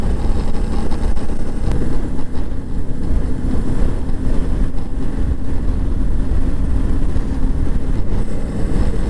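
Motorcycle riding along Route 10 on the Israel–Egypt border, among crowds of other motorcycles; a steady, loud engine drone with heavy wind rush over the microphone runs throughout, with no talking.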